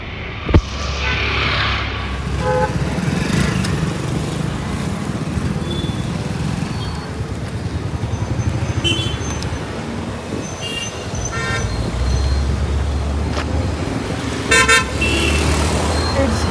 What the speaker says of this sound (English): it's hard to cross the road because there's so much traffic.